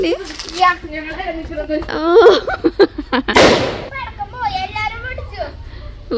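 A sharp firecracker burst cracks out amid excited children's chatter and shouts, with a few smaller pops around it.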